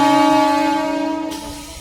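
A Konkan Railway train sounds a sustained, rich tonal blast in the Konkan countryside, loud at first and slowly fading over about two seconds.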